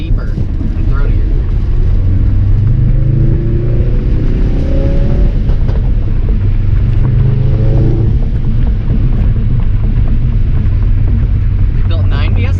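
A Ford Focus RS turbo engine with an upgraded intercooler and charge piping drones and rumbles steadily from inside the moving car, its pitch rising and falling with revs, under wind buffeting and muffled talk.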